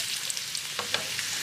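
Food frying in a pan with water and a little oil, giving a brief, steady sizzle and crackle with a few small pops.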